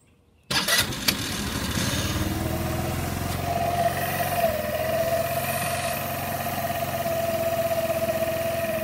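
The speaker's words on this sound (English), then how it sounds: "So I'm going to crank it up for you, Kev" A scooter engine under repair starts with a sudden burst and then settles into a steady, close, raspy idle with a faint whine riding on top, continuing evenly without talk.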